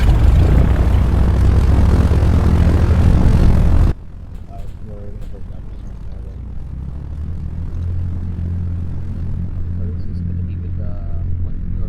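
Propeller engine of a Reaper aircraft at takeoff, a loud broadband roar for the first few seconds that drops abruptly to a lower steady drone, with radio voices faintly underneath.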